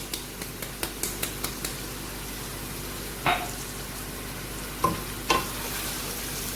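Onions frying in a pan for Sindhi chicken biryani, a steady moderate sizzle opening with a quick series of light taps and later a few louder scrapes or knocks, no voices.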